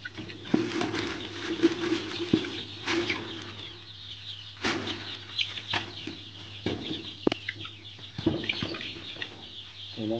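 Scattered soft clucks and pecking taps from a group of Sonali chickens fill an enclosed farm shed, with a steady low mechanical hum underneath.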